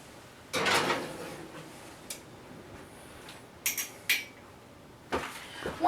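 A covered cheese loaf pan goes into a 450-degree oven, heard as a faint metallic clatter followed by scattered clicks and a couple of thumps in a quiet kitchen.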